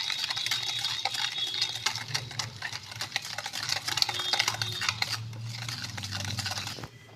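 Cake batter for a soft marble cake being beaten by hand in a bowl as sifted flour is added bit by bit, a steady run of quick scraping, slapping strokes close up, with no talking.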